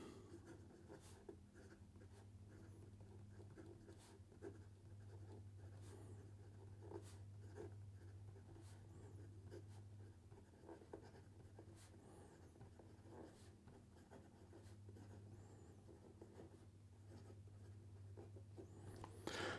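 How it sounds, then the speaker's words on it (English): A fountain pen with a broad Bock nib writes in ink on paper, a faint, close, continuous scratch with small stroke-by-stroke ticks over a steady low hum. "here we go with the rest of the writing sample"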